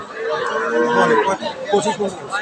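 A dairy cow lows loudly and close by, a drawn-out moo heard over the chatter of several people haggling over prices nearby.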